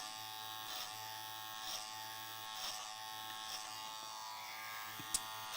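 Electric hair clippers cutting wet hair over a comb, a steady close-up buzzing drone with rhythmic swells as the blade passes through, plus a brief click near the end.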